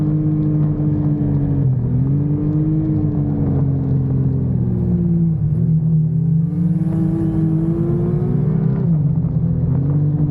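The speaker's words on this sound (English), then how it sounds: "the sweet symphony of a 998 motor getting into boost" A 998 turbo snowmobile engine drones loud and close, its pitch climbing and dipping in long sweeps as it revs up into boost, a steady rumbling roar with no talking.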